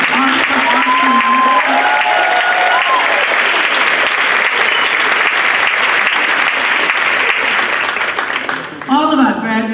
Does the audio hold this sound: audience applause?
yes